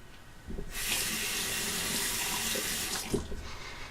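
Water running from a sink tap for rinsing after a wet shave, a steady close hiss and splash that starts abruptly and carries on until it is shut off near the end.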